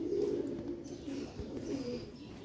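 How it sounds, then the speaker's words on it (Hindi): A golden breeder pigeon coos softly in a low repeating murmur, fairly close but quiet, with faint background noise and no talk. "बहुत ही आउट क्लास किस्म की कबूतरी है"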